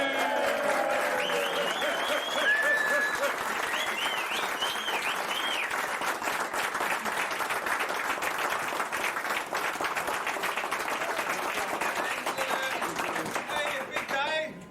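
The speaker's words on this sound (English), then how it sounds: "I think we ought to give our escorts a big round of applause" Applause on board the aircraft carrier USS John F. Kennedy as a crowd gives its escorts a round of applause, steady dense clapping throughout, with voices talking over the first few seconds.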